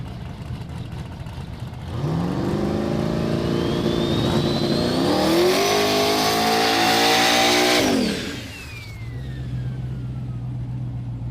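Drag race cars, one a silver New Edge Mustang, roll up to the burnout box at a no-prep event; a loud engine climbs in pitch as it revs hard for several seconds, then drops back to a steady idle.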